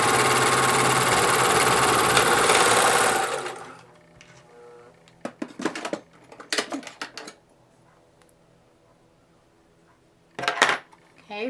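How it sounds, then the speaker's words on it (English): A serger with its cutting blade lowered trims and overlocks the fabric edge of a wig cap, a loud continuous mechanical whir for several seconds, then stopping, followed by scattered handling clatter and brief bursts. "I have my cutting tool on my serger all the way down, so it's going to cut the excess fabric as I"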